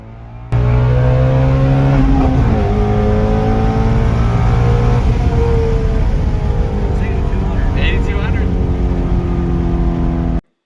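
A loud Ford GT350 sports car with a flat-plane crank 5.2-liter V8 roars continuously, its pitch shifting as it revs and shifts through gears, with a high whine above.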